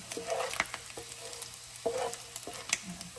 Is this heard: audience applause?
no